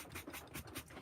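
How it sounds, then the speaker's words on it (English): A sanding sponge rubs along the edges of a wooden star cutout in short, rhythmic back-and-forth strokes, a soft, close scratching rasp with no talk. "I start out with my sanding sponge and try to get all the edges nice and sanded down"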